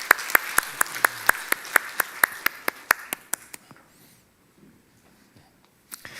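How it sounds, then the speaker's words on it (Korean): A church congregation at a Sunday service claps in welcome, sharp rhythmic hand claps in a fast even series that fade out after about three seconds, then a brief quiet pause and a last clap. "박수로 한번 맞이해 주시기 바랍니다."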